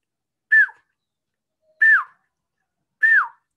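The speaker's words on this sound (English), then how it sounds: "this is a black hooded oriole" Black-hooded oriole calling in open countryside: three clear, fluting whistled notes, each sliding downward, spaced evenly over a few seconds against near silence.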